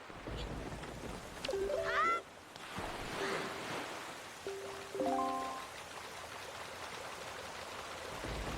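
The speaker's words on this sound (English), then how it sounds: "The rain in this game is so relaxing." Steady rain falls in the video game The Legend of Zelda: The Wind Waker, a constant soft hiss running throughout, with brief game chimes and tones rising over it at moments.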